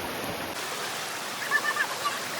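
Stream water flows and splashes around someone's feet in a continuous steady rush, with a few faint chirpy accents partway through.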